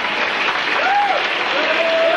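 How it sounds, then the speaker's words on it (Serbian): A crowd at a 1994 senior prom in a hotel applauds steadily and fairly loudly, with a faint tone and a voice audible beneath the clapping. "još jedan žestok aplauz"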